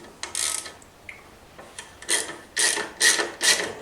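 A 12 or 13 mm socket wrench ratchets as it loosens the exhaust bolts on a scooter such as a Nitro, Aerox or Ovetto, giving close, crisp bursts of clicking that come in uneven spurts and grow louder toward the end.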